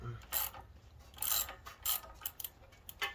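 A ratchet tightens a spark plug on a tow-behind boom lift, giving several quick close clicking bursts with short pauses between strokes and no speech.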